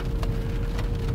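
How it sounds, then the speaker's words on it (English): Light rain falling steadily, a dense constant patter with a faint low hum beneath it, and no voices. "it's not raining that hard"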